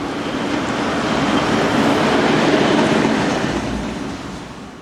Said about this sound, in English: One of only a handful remaining in original green livery, number 9225 heads west.